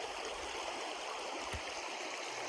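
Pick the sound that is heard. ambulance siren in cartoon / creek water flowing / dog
creek water flowing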